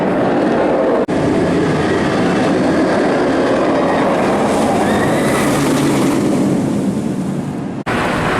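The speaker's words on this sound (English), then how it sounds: "that train you just saw in that shot there going down the first drop, completely empty" The Dragon Khan roller coaster train at PortAventura roars down the first drop, a loud continuous rushing rumble with heavy wind buffeting, alone with no voices.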